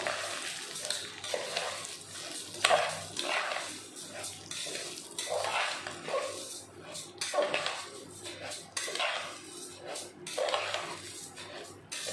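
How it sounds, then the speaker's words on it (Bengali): Rice is stirred and fried in a pan for chicken biryani, giving rhythmic scraping sweeps over a soft sizzle, close by and repeating every second or two. "ভালো করে নেড়ে ভেজে নিতে হবে চালটা।"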